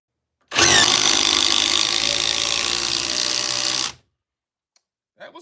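A Milwaukee Gen 2 Surge impact driver with a 4 amp hour battery runs in one loud, sustained whirring, rattling burst of about three and a half seconds, then stops abruptly.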